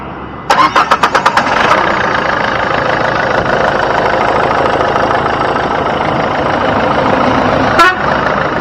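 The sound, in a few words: Nissan Sunny car engine idling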